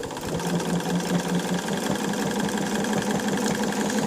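A sewing machine stitches steadily during free-motion quilting of a wavy crosshatch, a loud continuous whirring hum with a fine rapid needle rhythm, close up and uninterrupted, with no voice over it.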